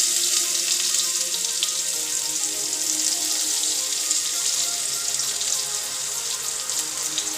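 Chopped garlic sizzles in hot oil in a pan, a steady crackling hiss that holds even and close throughout without any talking.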